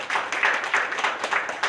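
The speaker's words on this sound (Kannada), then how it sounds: "ನಿಮ್ಮೆಲ್ಲರಿಗೂ ದೊಡ್ಡ ಚಪ್ಪಾಳೆ." An audience at a public gathering claps in a brief, dense burst of applause, close and fairly loud, lasting under two seconds.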